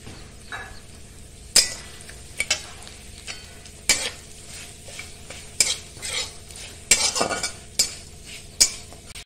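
Spices frying with stone flower in a pan, a soft sizzle under repeated sharp scrapes and clacks of a utensil against the pan at irregular intervals, with no voices.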